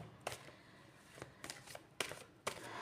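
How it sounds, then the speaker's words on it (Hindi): Tarot cards being shuffled, with a few spilling out of the deck: four brisk papery riffles and slaps come in separate bursts, close and moderately loud, and no voice can be heard. "बहुत ज़्यादा कार्ड्स फॉलो हो रहे हैं।"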